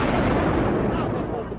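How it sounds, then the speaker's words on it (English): A loud, sustained rumbling roar at the World Trade Center towers, one of several explosions there, filling the whole clip without a break. "We just heard one more explosion."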